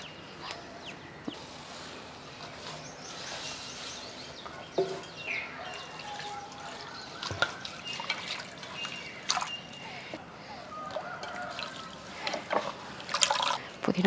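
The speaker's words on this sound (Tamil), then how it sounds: "புதினா கழுவி ஒரு பாத்திரத்தில் மாற்றி வச்சிடலாம்." Fresh mint leaves are washed in water by hand, giving uneven trickling, dripping and splashing that grows busier toward the end, with birds calling faintly in the background.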